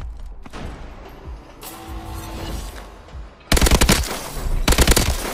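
Automatic weapon fire at the firing range in the video game Call of Duty Advanced Warfare, two loud rattling bursts near the end after quieter background game sounds.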